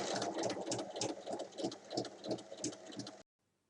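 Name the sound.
sewing machine stitching along a traced line on fabric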